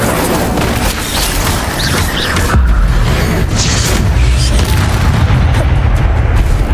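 Fiery spell blasts going off in Hogwarts Legacy, a loud booming explosion with crackling bursts, a sharp heavy impact midway followed by sustained low rumbling roar.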